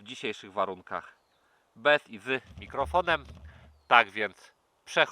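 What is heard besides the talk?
No everyday noise stands out behind the speech.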